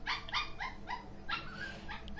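A dog gives a quick run of sharp yips and barks mixed with whiny whimpers, moderately close over a steady background hum.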